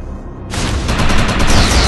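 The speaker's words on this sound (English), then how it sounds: "Shoot the projection while Overcharge is activated" Rapid gunfire in the sci-fi shooter Defiance, starting abruptly after a quiet half-second and continuing as dense, loud, continuous shooting with no talk.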